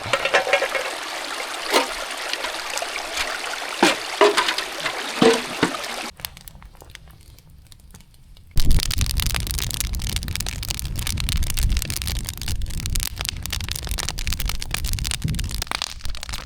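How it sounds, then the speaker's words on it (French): A cooking pot from the day before is washed with lake water at a campsite in Québec: splashing and trickling water with scraping, a quiet pause, then a louder, continuous rush of water and scrubbing close by. "Je vais aller prendre de l'eau puis laver mon chaudron d'hier."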